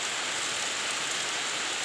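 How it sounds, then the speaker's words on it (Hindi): Heavy rain pours steadily outside during a rainy-season day, a dense, even hiss of downpour that holds constant and fairly loud from start to finish with no voices over it. "बाहर हो रही है तगड़ी वाली बारिश, देख सकते हैं यहाँ पर पूरा पानी गिर रहा है"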